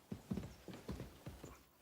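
Horse hooves clip-clop in Kingdom Come: Deliverance II, a handful of close, distinct hoof strikes in an uneven walking rhythm with no talk over them.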